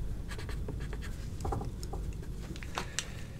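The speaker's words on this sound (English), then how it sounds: "Again, I'm using the pencil crayon just to" Pencil crayon colouring on paper for a cartoon drawing, quiet close scratchy strokes in short irregular bursts of hatching.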